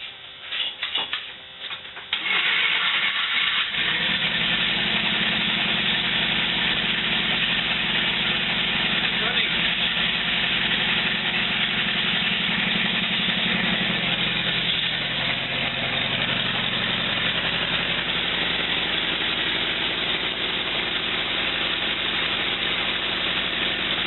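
1949 Willys engine cranks briefly, catches, and settles into a loud, steady idle with a low rumble, heard up close with some speech in the background.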